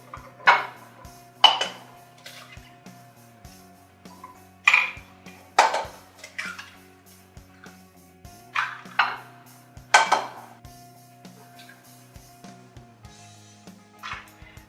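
Eggs cracked one after another against a mixing bowl for zucchini bread, giving several sharp knocks and clinks spaced a few seconds apart, close and fairly loud in a quiet kitchen with no talking.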